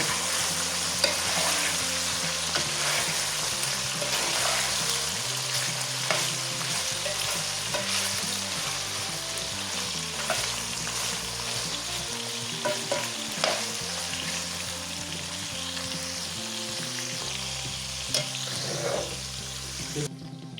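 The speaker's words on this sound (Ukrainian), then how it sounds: "Тушимо, поки сік не випарується. Час від часу перемішуємо, щоб воно у нас не пригоріло." Meat stews in a pan under a lid, giving a steady, dense sizzle and bubbling while it is stirred now and then with soft scraping. No one speaks.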